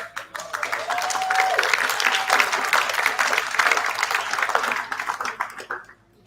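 Steady applause from an audience at a festive evening gathering fills the room for several seconds, a dense wash of clapping hands that fades out at the end, with faint voices underneath.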